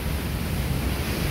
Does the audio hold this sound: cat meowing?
no